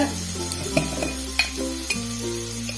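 Bitter gourd is sautéed with salt and sambar powder in a pan for a Tamil kuzhambu. A short burst of soft sizzling and stirring comes with a few light clinks of the spoon against the pan, and no talk.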